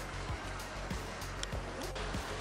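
A small tour boat on a river near Omiš, Croatia chugs along with a low rhythmic engine thump pulsing roughly twice a second, water washing faintly beneath it.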